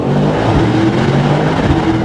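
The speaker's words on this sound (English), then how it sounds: "a perfect opportunity for us to listen to the beautiful V8 of the AMG GT." A Mercedes-AMG GT63 coupé's V8 engine accelerates through a tunnel, a loud, steady throaty roar with rising harmonic tones filling the whole stretch with no talking.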